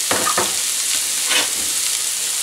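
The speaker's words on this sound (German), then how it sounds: "Und jetzt kommen die Möhren, die geriebenen Möhren rein. Und dürfen auch mitbraten." Grated carrots sizzle and fry together with onions in a pan, a steady crackling hiss with a few stirring scrapes, close and continuous without talk.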